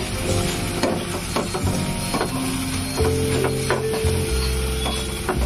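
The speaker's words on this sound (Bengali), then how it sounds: "দেখুন দিয়ে দিলাম আমি মাছের তেলটা, দিয়ে এর মধ্যে নাড়িয়ে নেব, কষিয়ে নেব" Fish oil being stir-fried in a pan gives a loud steady sizzle and hiss, with spatula scrapes and stirring knocks coming through at irregular intervals.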